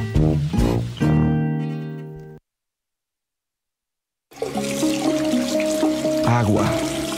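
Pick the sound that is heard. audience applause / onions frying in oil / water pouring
water pouring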